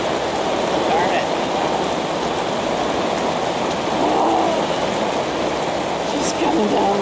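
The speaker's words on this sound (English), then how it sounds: "Coming down, look at it coming off the awning and the sides." Heavy summer thunderstorm rain in Torrey, Utah, pouring off an awning and its sides, a steady dense roar of falling water that stays loud throughout, with no talk over it.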